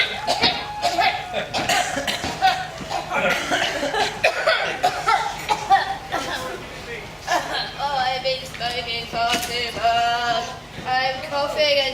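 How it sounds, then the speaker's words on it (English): Repeated coughing fits break out between strained, hoarse vocal sounds and chuckles, close and fairly loud throughout. "I'm coughing and choking"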